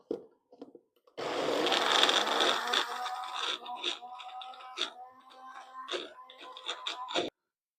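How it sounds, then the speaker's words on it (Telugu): A mixer grinder blends peanut chutney, its motor starting with a loud whirring roar that settles into a steadier, uneven churning with intermittent scraping and knocking from the jar, close and alone before cutting off. "ఇంకొకసారి మిక్సీలో వేసుకోండి"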